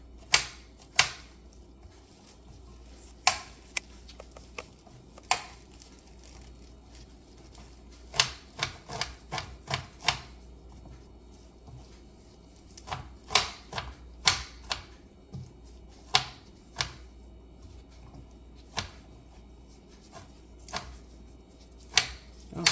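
A knife rough-chopping food on a cutting board, probably spinach, for egg muffin cups: sharp irregular taps in short bursts and single strikes with pauses, close and moderately loud, with no talking.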